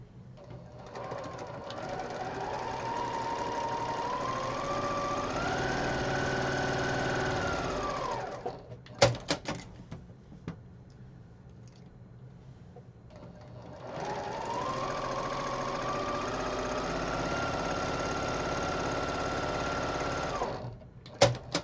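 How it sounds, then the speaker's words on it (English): A sewing machine stitching quarter-inch seams on a quilt block runs in two steady whirring bursts of several seconds each, with a quiet pause between them and light handling clicks, close and alone. "now I can sew a 1/4 inch on both sides of the line"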